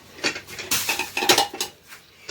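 Metal pots and pans clatter and clank in a quick burst as a pressure cooker is pulled out from among them, close and busy, with no voices.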